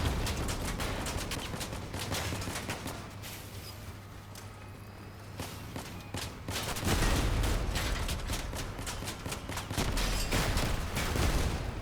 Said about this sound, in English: I'm just gonna shoot the gun.